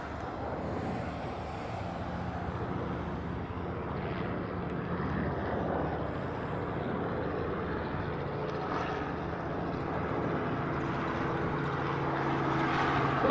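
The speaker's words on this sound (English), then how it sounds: "I have a Learjet departing off the reef runway that I didn't see." Learjet jet engines roar steadily as it departs off the reef runway at Honolulu airport, a continuous broadband rumble that stays fairly even and swells slightly toward the end, with no talk.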